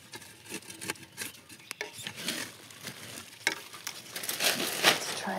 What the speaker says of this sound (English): just scuff the sides so it's easier for the roots to penetrate into the soil